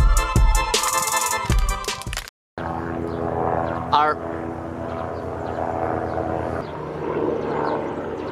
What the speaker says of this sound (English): helicopter is gone, and is that a plane?